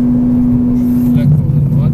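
A Ferrari engine on a circuit drones steadily and then picks up as the throttle opens, close and loud, with a driving instructor talking over it.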